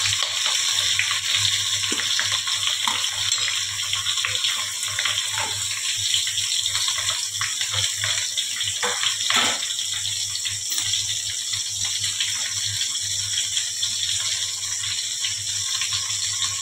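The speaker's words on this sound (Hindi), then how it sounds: "जो हमने प्याज और शिमला मिर्च को इस तरीके से करके रखा है उसको डाल देंगे सबसे पहले।" Onions and capsicum frying in hot oil with cumin in a kadai while kadai paneer is being made, producing a steady, even sizzle that stays at the same level throughout with no voices.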